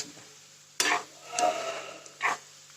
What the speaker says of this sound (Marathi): थोडं मीठ टाकलं का खूप चटपट भाजलं जाते बरं का कांदा